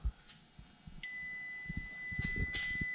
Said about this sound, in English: I am getting 24 ohms and you hear continuity.